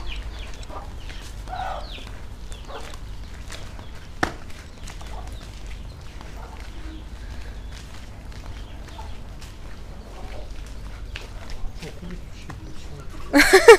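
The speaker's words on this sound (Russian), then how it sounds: "Индюки, блин. Никогда не любил индюков." Turkeys and other fowl at a small petting zoo give scattered gobbles and clucks at a moderate distance, with footsteps, people chatting throughout and a burst of louder noise at the end.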